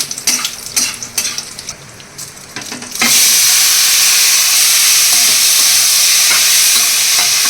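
Cashews and raisins frying in a pan of spices for a vegetarian pulao, a few clinks and stirs giving way to a loud, steady sizzle that fills the rest.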